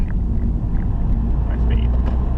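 Car coasting in neutral around a roundabout and down a hill, with a steady low road and engine rumble heard from inside the cabin, while someone talks over it.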